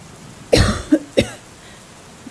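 Three harsh coughs in quick succession, close and loud, followed by quiet.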